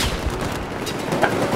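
Battlefield 4 gunfire in a 32-player Domination match on Lost Islands, dense overlapping shots and distant booms in a steady rumbling battle din.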